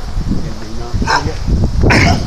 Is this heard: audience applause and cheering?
no